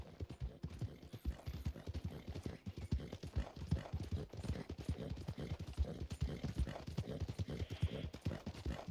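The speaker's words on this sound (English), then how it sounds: "Nice looking horse." A horse's hooves clip-clop steadily in the Red Dead Online video game, a continuous quick rhythmic trot of close, soft thuds with no pauses.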